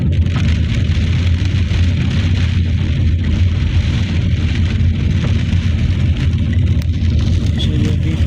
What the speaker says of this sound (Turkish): Yağmur hızlanınca